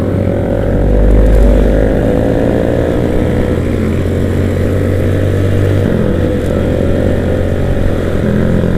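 A motorcycle on a race track holds a loud, close, continuous engine drone with a brief surge near the start, steady throughout with no pauses.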